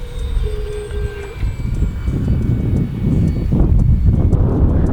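A radio-controlled P-39 Airacobra warbird model airplane flies outdoors: a steady engine drone with broad rushing wind noise, building slightly louder toward the end, with no talking.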